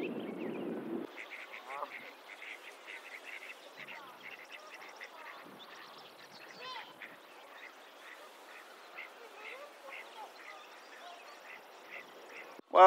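Ducks and geese quacking and honking on a pond, a busy chorus of repeated calls at moderate distance continuing throughout, with a brief low noise at the start and a loud bump at the end.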